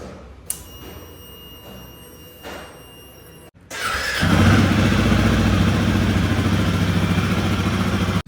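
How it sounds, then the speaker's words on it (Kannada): A Royal Enfield Himalayan motorcycle cold start: a faint whine and light clatter, a brief pause, then the engine catches and settles into a loud, steady idle rumble close by. "ಕೋಲ್ಡ್ ಸ್ಟಾರ್ಟ್ ಮಾಡೋಣ"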